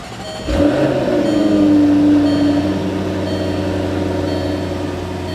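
A 2014 Jaguar F-Type V8 S fires up with push-button ignition: a sharp starter catch and loud bark, then a steady, deep, droning idle with a flaring note that settles after a couple of seconds.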